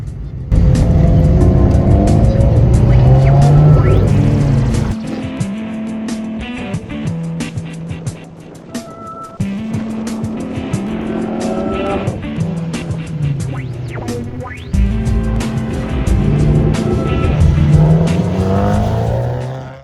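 Rally car driven flat out around a track, its engine loud and close, revving hard and dropping back through repeated gear changes and lifts over about twenty seconds, alone with no talk.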